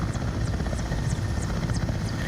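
A Mil Mi-17 V-5 helicopter taxis in Microsoft Flight Simulator, its rotor and turbine making a loud, steady whirring drone with a rhythmic blade thump throughout.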